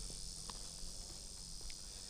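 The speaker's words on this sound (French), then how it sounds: "On entend des espèces de grillons." Crickets chirping outdoors near a balcony in the Sianok Canyon area of Indonesia, a faint continuous high trill filling the background with a few soft, sparse sounds over it.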